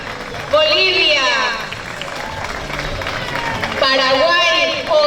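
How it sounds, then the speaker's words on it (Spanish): Street crowd at a pasacalle parade in Benimàmet applauds and cheers for a passing group, sustained clapping and crowd noise swelling twice, heard beneath an announcer's amplified voice speaking Spanish. "Fuerte aplauso para ellos."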